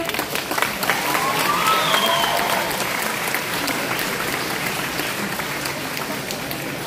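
Audience applause for a cosplayer portraying Inarius from Diablo 4 at a French cosplay competition, a dense, steady wash of many hands clapping throughout, with faint whistles or cheers rising briefly near the start.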